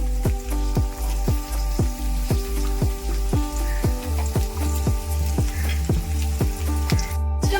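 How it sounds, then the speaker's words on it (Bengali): Chopped onion fries in a pan while making egg tadka, giving a steady sizzle. Regular rhythmic pulses and musical tones play over it, and no one speaks. "কুচানো পেঁয়াজ দিয়ে ভালো করে একটু ভাজা ভাজা করে নিতে হবে"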